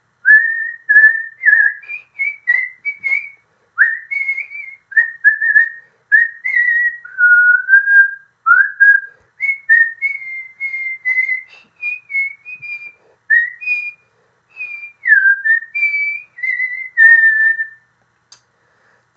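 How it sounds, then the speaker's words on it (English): A man whistles a cheerful, happy tune alone, a steady run of bright, clear melodic phrases with short pauses between them, close and fairly loud, with no talking. "He cannot keep himself from whistling"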